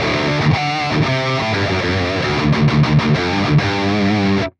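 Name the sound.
guitar with boost effect on Line 6 POD Express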